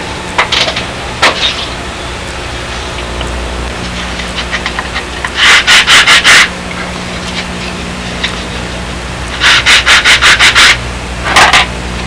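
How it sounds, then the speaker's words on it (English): Sanding glass fibre around a hinge pocket on a Windy Sidewinder build, with loud bursts of rapid back-and-forth rubbing strokes in two main runs separated by quieter scraping and workshop hum. "Come back, sand this out, and dress up the hinge pocket."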